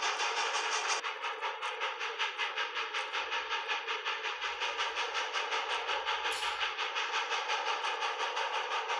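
A very long iron ore freight train hauled by about eight locomotives rumbles past in a steady, continuous roar with a fast rhythmic clatter of wheels over rail joints, loud and close throughout.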